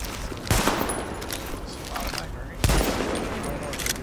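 Rifle fire in the video game The Division crackles in rapid volleys, with two sharp, louder shots standing out over a constant background of gunfire.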